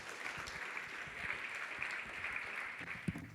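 Sustained audience applause at a philanthropy awards luncheon, a steady wash of many hands clapping throughout with a slight swell near the end, heard from within the room.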